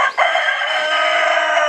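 A rooster crowing loud and close, one long sustained cock-a-doodle-doo call with no other sound around it.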